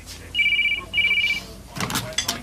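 An interior telephone rings in a British soap-opera home or shop setting, two clear electronic trills in quick succession, followed by a rustle and a short burst of movement noise.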